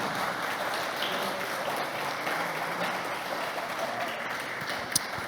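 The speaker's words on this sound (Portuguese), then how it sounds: "e aplaudam o Senhor bem forte, em nome de Jesus" A church congregation claps hard for the Lord during a Portuguese-language worship service, a steady, even roar of many hands heard at moderate distance, with no talking over it.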